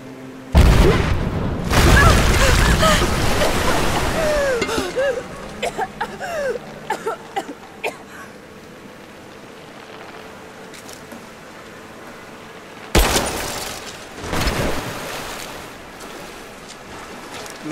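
Explosions go off in Rise of the Tomb Raider, in the Syria level on survivor difficulty. Two loud booms with rumbling tails are heard, one early and one late, separated by quieter game ambience with brief voice-like calls.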